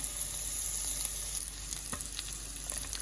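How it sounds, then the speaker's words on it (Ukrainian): Boiled, peeled shrimp frying in butter in a hot pan, a steady close crackling sizzle with a few brief stirring sounds. "У розігріту сковороду кладемо відварені й почищені креветки, додаємо вершкове масло, солимо, перчимо."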